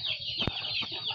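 Bangkok chickens clucking on a farm, a couple of short close clucks over a steady background hum.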